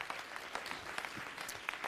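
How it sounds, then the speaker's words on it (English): Applause at a city council meeting in the Las Vegas Valley, steady clapping from a seated audience, moderately faint and continuous for a couple of seconds. "So let's give them a round of applause."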